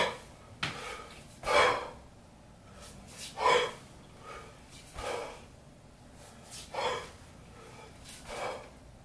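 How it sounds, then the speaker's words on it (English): Forceful exhalations during kettlebell sport clean swings, a series of about seven sharp, breathy puffs spaced roughly a second or more apart, close and fairly quiet, with no talking. "I'm breathing out on the downswing, in on the upswing, and then breathing out as I land into the rack"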